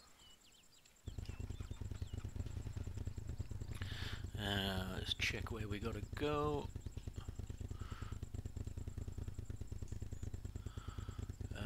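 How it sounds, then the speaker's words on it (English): A motorcycle engine in Arma 3 starts up and settles into a steady, rapid idling throb that continues throughout, while someone talks over it. "Engine on."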